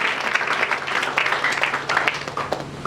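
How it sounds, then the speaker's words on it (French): Applause from a church congregation during a lively French-language worship service, dense steady clapping holding throughout at moderate level with faint background voices. "Acclamons très fort pour ça."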